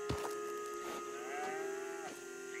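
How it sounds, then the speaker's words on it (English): Cows in the video game Red Dead Redemption 2 let out a single faint, drawn-out moo with a gliding pitch against quiet ambience. "There's some cows over there."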